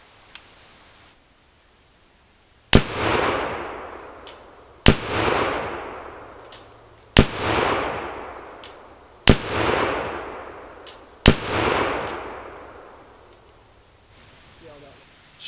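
AK pistol with small notch sights fired at a fast pace outdoors: five loud, sharp shots spaced about two seconds apart, each followed by a long rolling echo, with a brief faint sound before and after.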